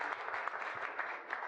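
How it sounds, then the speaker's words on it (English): Brief applause from an audience at a kitchen design trends presentation, a soft, even patter of many hands clapping, heard faintly for a second and a half. "let's give Sally a great round of applause"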